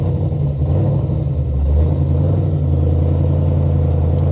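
Big-cammed Chevrolet LT1 V8 fitted with a Comp XFi 292 camshaft, idling with a loud, lumpy, choppy rhythm close by and rising slightly in revs partway through.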